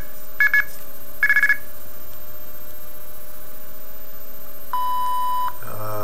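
Red box mode tones from a blue box phone-phreaking device with an LCD display: two quick bursts of short electronic beeps, a pause, then a longer steady tone followed by a lower buzzing pulse.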